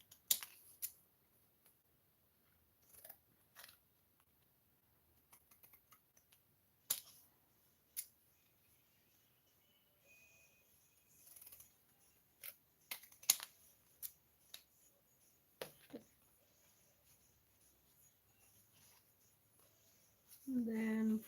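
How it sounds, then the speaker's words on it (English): Scissors cutting paper around an old painting, scattered sharp snips and clicks at irregular intervals in a quiet room, with a brief voice near the end. "I'm just gonna go around it with my really cool scissors."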